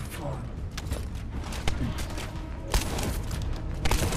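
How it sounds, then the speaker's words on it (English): Shotgun blasts and heavy mechanical clanks sound in a sci-fi looter shooter game, The First Descendant, with sharp booms scattered among a dense, busy layer of game effects. "Oh, it's a shotgun."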